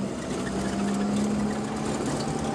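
A car engine runs steadily after a manual gear change with a newly replaced clutch, giving a constant close drone with a faint tonal hum and road noise throughout.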